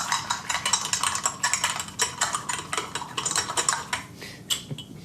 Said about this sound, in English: give this a preliminary stir with your bar spoon just to start the coffee dissolving